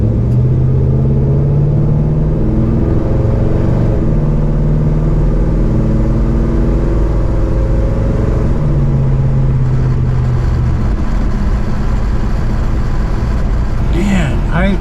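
A Pontiac LeMans with a new exhaust revs loud and close, its engine rising and falling in several swells over a steady rumbling idle.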